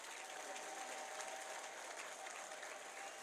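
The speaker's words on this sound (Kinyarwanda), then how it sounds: "Mumumpera amashyi yumvikana." A church congregation breaks into loud, dense applause, many hands clapping together in a steady roar from start to finish.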